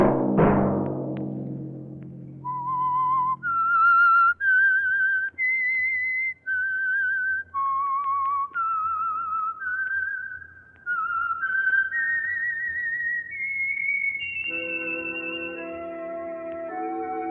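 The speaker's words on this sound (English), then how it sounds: "Let that whistle be your signal for the Signal Oil program, The Whistler" A whistled theme melody for The Whistler mystery radio program, a lone clear whistle rising and falling through a slow eerie tune of sustained notes, ending as orchestral music swells in.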